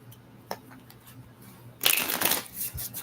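A deck of playing cards is riffle-shuffled in one crisp, loud burst that lasts under a second, after a few light taps and ticks at a quiet table.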